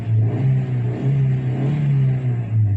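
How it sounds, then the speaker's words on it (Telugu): A 2012 Hyundai i10 Magna Blue Drive, just started on LPG, runs with a steady low engine hum and slight rising revs, close and loud throughout. "సో ఎల్పిజిలోనే స్టార్ట్ చేసిన."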